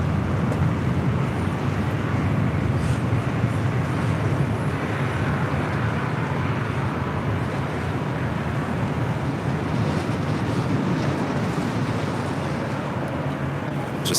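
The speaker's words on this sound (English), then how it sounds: "it got windy all of a sudden" Sudden gusty wind at LAX airport buffets the microphone, a loud low rumbling roar that surges and eases unevenly throughout, with distant jet aircraft noise blended underneath and no talking.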